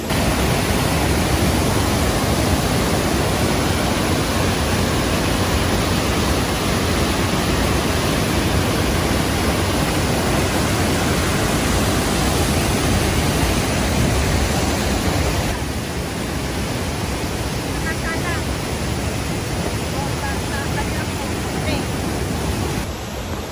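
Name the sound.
waterfall between the second and third lakes at Joffre Lakes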